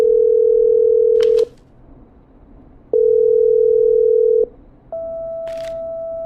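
A phone line being patched through in the game Killer Frequency: loud, steady dial-style tones sound in three sustained segments separated by short gaps, the last at a higher pitch, with brief clicks between them.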